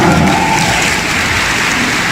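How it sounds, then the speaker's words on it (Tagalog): An audience at a Filipino senatorial campaign event applauds, a dense, loud wash of clapping that holds steady for about two seconds with no pause. "Ang hina ng palakpak nyo."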